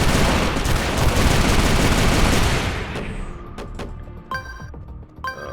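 Soldiers open fire in the Fallout Equestria Remains video game, a dense, loud fusillade of rapid gunshots that thins after a few seconds into scattered sharp shots and metallic impacts.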